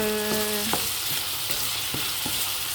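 A spoon stirring mixed beans soup seasoned with salt in a pot, a few distinct knocks and scrapes against the side over a steady bubbling hiss, close up.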